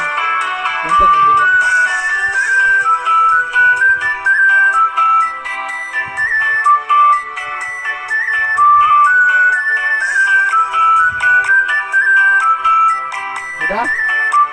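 A melodic phone ringtone plays loudly and repeats its short tune several times without pause, with a couple of brief knocks partway through.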